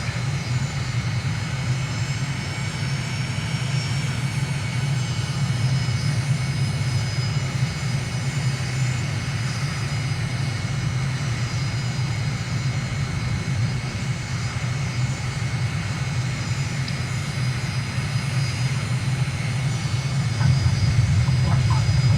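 Jet aircraft landing in a flight simulator, a MiG on a recon flight over Venezuela, with steady loud engine roar holding throughout, a dense low rumble under a thin high whine, and no talk.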